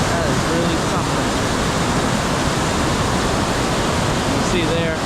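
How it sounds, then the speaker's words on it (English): Waterfall at Valley Falls State Park on the Tiger River, a loud, close, constant roar of rushing water that dominates throughout, with faint voices barely rising above it. "This water's super loud."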